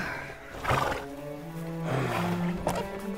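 A horse neighing in the LEGO The Hobbit video game, two drawn-out whinnies with falling pitch sounding fairly close over a faint background, plus a short sharp sound near the end.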